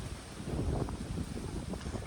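Wind blowing across an open hillside spot on the way to a sunset point at Matheran, a low buffeting rumble against the microphone, steady and fairly soft.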